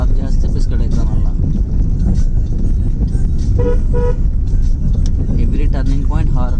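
A van sounds its horn at a turn on a downhill hill road, short toots over loud engine and wind noise, with people talking throughout.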